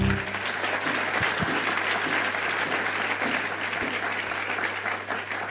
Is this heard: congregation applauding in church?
yes